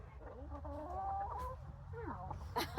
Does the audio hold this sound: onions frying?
no